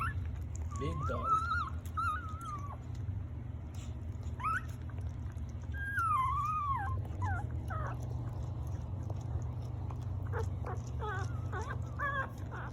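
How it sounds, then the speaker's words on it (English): Newborn Chiweenie and Labradoodle mix puppies whimper and squeak in short high rising and falling cries, scattered through a steady low background hum, faint and close. "It's a Chiweenie with a Labradoodle."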